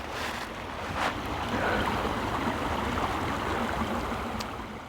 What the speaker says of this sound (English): this is a freaking creek. There's just leaves on it.